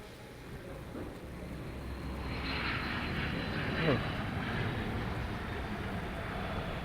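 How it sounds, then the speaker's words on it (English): A propeller aircraft such as a B-29 Superfortress takes off at a distance: a broad, steady engine roar swells gradually and holds over wind-like background noise, with no talk. "Hearing an aircraft just go off, take off, sounds like."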